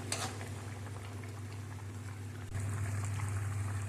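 A pot of puti fish jhol, a Bengali fish curry, bubbles steadily on the stove, a continuous close simmering hiss with low hum that grows slightly louder partway through, with no voices.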